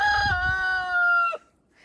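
Rooster in a backyard flock gives a loud, sustained crow over low, murmuring clucks from the hens, ending abruptly and leaving near silence.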